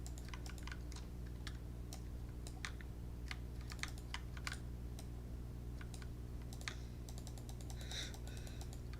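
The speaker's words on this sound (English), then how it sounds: "my keyboard is one of those ridiculously loud mechanical ones" Fast, irregular clicking keystrokes on a loud mechanical computer keyboard with worn keys, close and steady over a constant background hum, with no talk.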